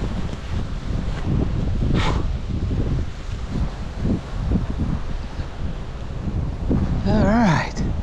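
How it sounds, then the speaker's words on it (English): Strong gusty wind roars across the microphone during an outdoor walk, a loud continuous buffeting rumble with brief rustles, and a voice briefly sounds near the end. "Blowing me away, much windier than yesterday."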